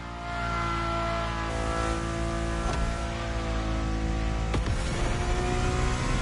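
Car engine in The Crew Motorfest video game heard from inside the cabin, a steady loud drone with strong harmonic tones that shift as it revs, plus a couple of sharp gear-change breaks, no talk.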